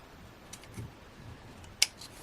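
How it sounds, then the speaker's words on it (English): Scissors make a few quiet snips while trimming a paper craft layer, small soft cuts followed by one sharper click, against a faint indoor background. "Again, just trimming those pips."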